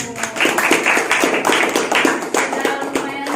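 A classroom group claps together in steady rhythmic bursts, close and fairly loud, with no talking over it.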